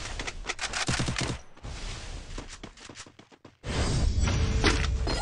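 Gunfire rattles in the Garena Free Fire video game, dense bursts of shots and impacts with a short pause before a loud, sustained stretch of firing.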